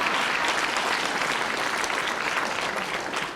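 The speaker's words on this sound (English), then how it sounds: "please applaud her." An audience at an in-person graduation ceremony applauds steadily for a mentor, a dense, even wash of clapping that holds at full strength throughout and fades slightly at the end.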